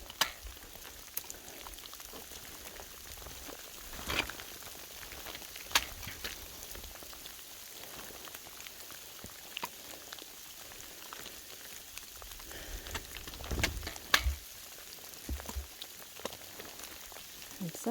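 Sleet falls steadily on a rocky Appalachian Trail mountain section crossed with big slippery boulders, a continuous fine crackling patter close around the listener for the whole stretch, broken by a few louder knocks and rustling bumps.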